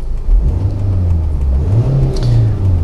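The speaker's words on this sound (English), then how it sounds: "Okay, the engine's lovely." A Volvo S40 running on LPG idles close by with a smooth, steady hum, with a couple of gentle rises in revs partway through and no talk.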